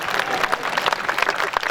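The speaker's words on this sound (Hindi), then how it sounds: "अग्रिम तालियां बजा दें" An audience at a Hindi poetry recital (kavi sammelan) gives a short burst of applause, crowd clapping steady and moderately loud with scattered sharper claps.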